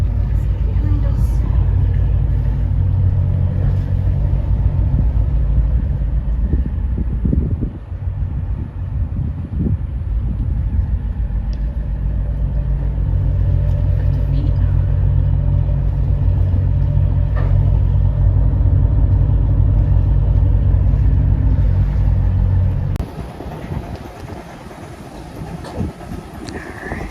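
The engines of a motor cruiser run as a loud, steady low rumble with wind buffeting the microphone, dropping to a quieter, rougher drone near the end.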